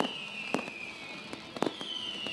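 Fireworks burst over an IRA sprint car race, with a few sharp cracks and pops standing out against a steady, high engine whine that drifts slowly in pitch.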